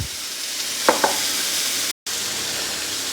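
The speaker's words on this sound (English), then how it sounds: "So I've chucked the dollop of butter in already, and I'm going to chuck in my heart's desire of garlic" Garlic sizzles in melted butter in a pan for a French onion chicken casserole: a constant close crackling hiss with two small clicks partway through and a brief cut to silence near the middle.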